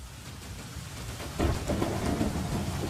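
Rain pours steadily in an animated comic, and a deep roll of thunder swells in partway through and stays loud under the downpour.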